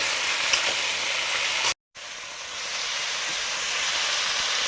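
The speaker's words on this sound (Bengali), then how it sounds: "তেলে হলুদ দেওয়ার পরে সবজিগুলো দিলাম। সবজিগুলো ভালো করে কষে নেব।" Okra, stem vegetables and leafy greens fry in hot oil with turmeric, giving a steady loud sizzle with brief stirring noise, interrupted once by a short silent gap.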